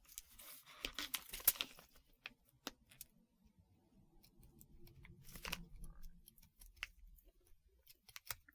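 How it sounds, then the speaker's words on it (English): Scissors snip at a gingerbread-house template in a quiet room, a few crisp cuts and crinkles early on, then soft handling noises and scattered faint clicks. "Get out my scissors."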